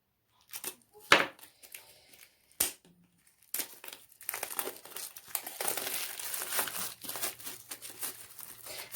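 Packaging of a surprise parcel being opened: sharp isolated crackles and rips at first, then sustained close crinkling and rustling of plastic and paper.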